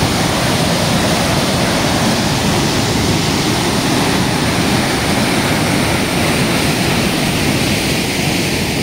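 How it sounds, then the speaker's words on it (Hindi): Loud, steady roar of the Chambal canal's fast water rushing over a concrete slab into a tunnel, a dense continuous wash close by with no pause or talk. "पानी की तेज गड़गड़ाहट देखिए आप,"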